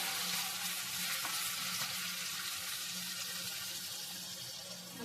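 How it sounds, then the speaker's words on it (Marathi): Chickpea usal masala sautéing in a pan gives a dense, steady hiss that fades slightly toward the end, with no stirring strokes standing out and no talk. "चांगलं परतून घ्यायचं"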